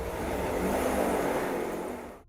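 A car is driven fast, heard as a steady rushing engine and road drone close up, holding even for about two seconds before cutting off abruptly.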